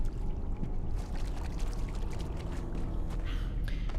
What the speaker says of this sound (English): There's water.